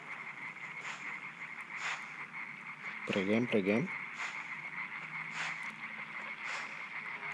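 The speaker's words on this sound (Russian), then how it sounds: "Лягушки квакают." Repeated video game frog croaks in Limbo ring out over a steady electronic hum, with a burst of chirping calls in the middle and a person talking briefly.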